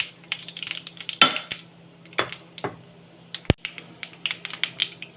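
Mustard seeds splutter in hot sesame oil for kaara kuzhambu, a scatter of sharp, irregular pops and crackles close by, some louder bursts standing out over a faint background hum.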